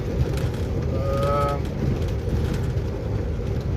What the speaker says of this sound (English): Raining, miserable.